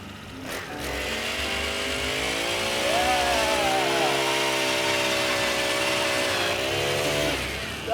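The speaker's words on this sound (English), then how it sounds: "We'll go over here and drill yours." A power drill bores a hole through thick ice on a guided trip in Alaska, its motor whining steadily and loud for most of the clip, its pitch shifting slightly as the bit cuts through.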